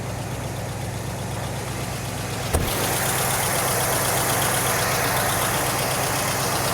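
A 1976 Cadillac Eldorado with a 500 cubic inch big block V8 idling, a low steady rumble close by that steps up slightly louder midway after a brief clunk.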